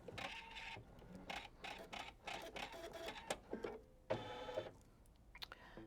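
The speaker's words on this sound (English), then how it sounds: "I'm going to go ahead and stitch the legs on the spider detail" An embroidery machine stitches spider leg details on a quilt project, giving rapid mechanical clattering bursts with short pauses between runs, moderately close and fairly quiet.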